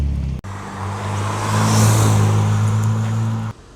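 A Kia Stinger GT with an aftermarket exhaust, open and shut modes, drives past with a steady, loud engine and exhaust drone that swells toward the middle, holds, then cuts off.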